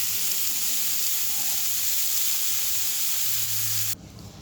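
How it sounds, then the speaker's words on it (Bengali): Cauliflower fries in fish oil in a pan, giving a loud, constant sizzle close up that runs unbroken for several seconds, then cuts off abruptly near the end. "আমি ফুলকপিটা কিন্তু মাছের তেলেই ভেজে নিয়েছি।"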